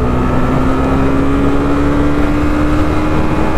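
A Honda CB300R motorcycle accelerates hard, its engine note climbing steadily in pitch as a loud, continuous drone with road and wind noise underneath and no talk.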